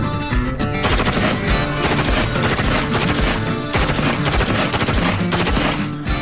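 Gunfire from a cocked gun: dense, loud, rapid shots rattle continuously and close, with no voices.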